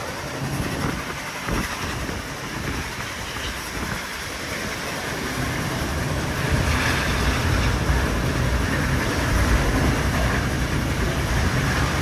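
A steam train rolls past at the Transport Heritage Expo, making a dense, loud, continuous rumble and rush that swells slightly over time, with some wind buffeting the microphone.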